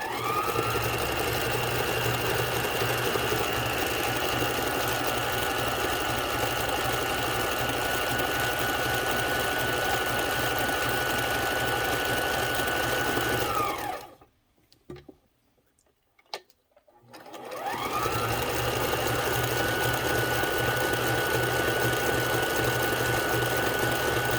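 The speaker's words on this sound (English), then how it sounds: "Really nice stretch stitch." A repaired Kenmore sewing machine sews a stretch stitch, its motor whirring steadily with a rapid ticking needle rhythm, close and loud. It stops briefly near the middle, then starts again and runs on to the end.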